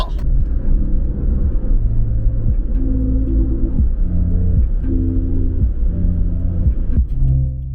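A camper van's engine labors up a steep hill, a loud, steady low rumble and drone with shifting throbbing tones that continue throughout, followed by a brief shift in pitch near the end.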